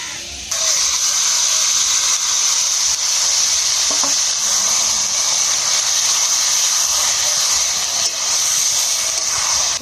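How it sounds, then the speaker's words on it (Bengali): Marinated shrimp frying in hot oil in a kadai with bay leaf and dried red chili, a loud continuous hissing sizzle that jumps up after the first half second and holds steady, with faint stirring. "কড়ার মধ্যে তেল দিয়ে দেবো, তেজপাতা ফোড়ন করবো, শুকনো লঙ্কা তেলে দিয়ে দেবো, মাখানো চিংড়ি মাছটা দিয়ে দেবো"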